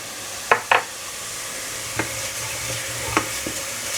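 A single garlic clove cooks in a pan for a Spanish magro con tomate tapa, a soft steady sizzle broken by a few sharp utensil clicks and scrapes against the pan, close and quiet, no voices.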